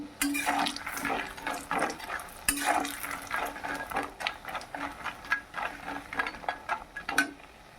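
Bori lentil dumplings fry in oil in a kadai, a soft sizzle beneath a series of scraping, clinking strokes of a utensil against the pan, uneven but repeated.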